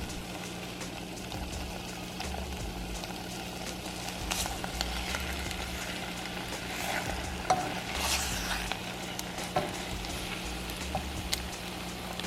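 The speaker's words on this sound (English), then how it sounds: "Macaroni in a pot." Vegan macaroni cooks in a pot on the stove with a constant bubbling, sizzling hiss and occasional stirring clinks, fairly close and steady throughout with no talking.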